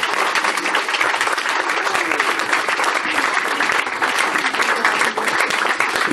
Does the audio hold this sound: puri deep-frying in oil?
no